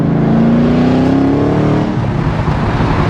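A 2005 Ford GT launches on a street with its tires spinning, the engine note loud and close, rising in a steady sweep as the car pulls away.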